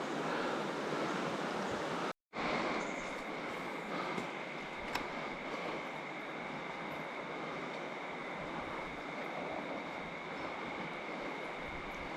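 Rushing river rapids during a fishing session for Murray cod: a steady, loud broadband wash of flowing water carries on throughout, cut by one brief dropout near the start, with no voices.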